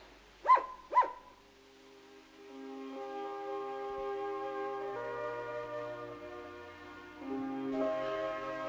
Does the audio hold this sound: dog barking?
yes